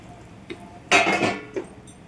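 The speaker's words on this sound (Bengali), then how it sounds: "আমার ঝোলটা ফুটে গেছে, এবার আমি বেগুনগুলো সব দিয়ে দিব" Eggplant pieces tipped from a metal bowl into a pot of boiling hilsa fish curry flavoured with dry red chilli and cumin paste, a brief clattering clink of utensils among soft taps, close and without talk.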